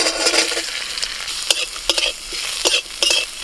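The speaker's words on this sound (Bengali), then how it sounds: "এখন কাঁচকলার খোসাগুলো একটু নেড়ে নেব" Green banana peels frying in a pan with black cumin, garlic, dried and green chillies are stirred with a spatula, giving sharp, irregular scraping clacks over a soft, continuous sizzle, close and moderately loud.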